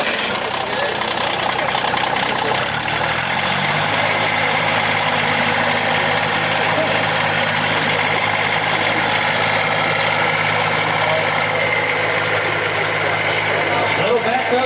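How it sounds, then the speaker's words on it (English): A Kubota mini backhoe with a thumb, offered at an outdoor auction, runs with a steady mid-to-low engine drone that settles into an even idle after a few seconds, loud and close throughout. "Little backhoes are working."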